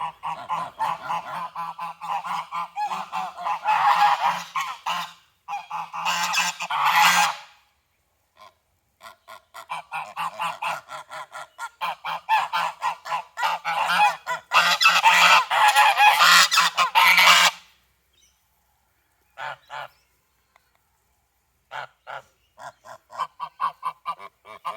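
A flock of geese honks loudly and close by in repeated noisy bursts, breaking off into short pauses of quiet between scattered calls, with no talk.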